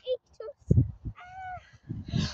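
Crows caw in short harsh bursts around people out walking, mixed in with nearby talking.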